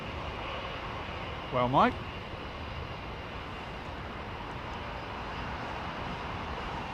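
Airliners arriving on runway 27R produce a steady, distant engine roar, with someone speaking briefly over it.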